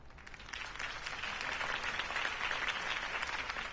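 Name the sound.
crowd applause in video game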